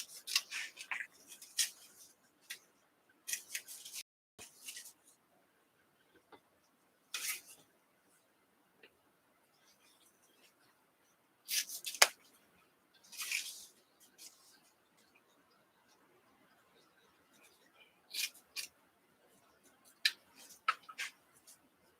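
Cutting material for a sunflower wreath, probably with scissors: sparse, quiet snips and rustling crunches at close range in short clusters, separated by near-silent pauses.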